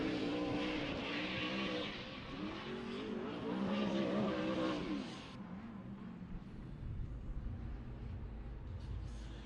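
Monster Energy Nitto Tire Ford Mustang RTR drift car at Formula Drift Texas practice, engine roaring loud and steady with revving and tire noise for about five seconds, then dropping to a quieter, more distant rumble.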